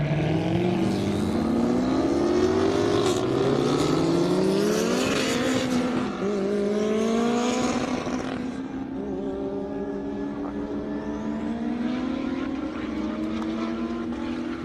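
Slingshot dragster engine at an airstrip drag racing event, roaring and climbing in pitch through several gear changes as it passes nearby, then fading into a lower sustained drone.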